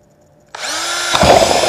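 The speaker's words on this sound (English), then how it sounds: "we will drill through that very easily and cleanly" A power drill starts abruptly, whines up to speed, then bites into a plastic car bumper with a louder grinding rasp, close and continuous.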